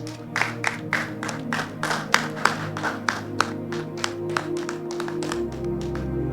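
An audience at an Easter Sunday skit applauds to welcome guests, a rhythmic run of fairly even, spaced claps over a low steady hum, moderately close.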